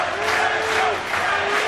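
A wrestling crowd erupts in a sustained loud roar of cheering and shouting after a springboard Quebrada, with a commentator talking over it.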